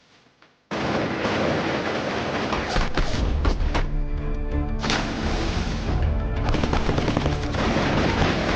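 Sustained machine-gun fire in a Chinese spy-drama riverside ambush: dense, loud, continuous bursts and thumping shots fill the scene from start to finish after a brief quiet opening.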